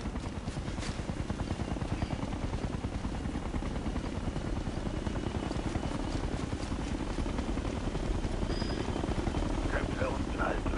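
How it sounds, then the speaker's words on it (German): Helicopter in Ghost Recon Future Soldier, a continuous rapid rotor chop pulsing evenly throughout at moderate loudness, with faint game effects flickering over it. "Die haben einen Hubschrauber."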